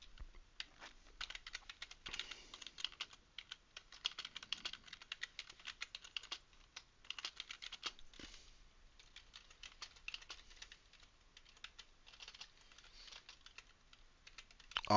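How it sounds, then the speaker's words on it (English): Steady rapid keystrokes from touch typing on a computer keyboard, a dense, continuous patter of light clicks at close range, with no talking. "This is my touch typing."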